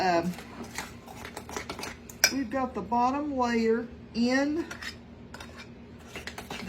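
Spoon clinks and scrapes against a dish while stirring the second layer of a homemade peach dessert in a farm kitchen, short bursts of metal-on-bowl clatter with someone talking over them.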